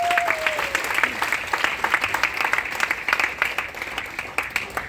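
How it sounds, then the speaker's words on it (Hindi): A crowd at a Modicare company event breaks into loud applause, fast dense clapping throughout with a brief tonal whistle-like sweep near the start. "जोरदार तालियां प्लीज।"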